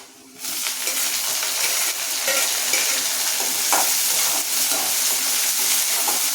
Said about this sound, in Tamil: வெங்காயம் வதங்கிடுச்சு. தக்காளியை போட்டுக்கிறேன்.